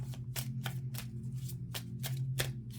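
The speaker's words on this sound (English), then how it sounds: "3 more shuffles." Cards riffle-shuffled in quick bursts, several crisp ripples in a row over a steady low hum.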